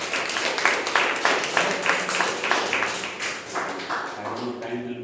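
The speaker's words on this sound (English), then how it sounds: "Let's clap." An audience at a speech and evaluation meeting claps in a scattered burst, fairly faint and uneven, with talking present over and after the claps.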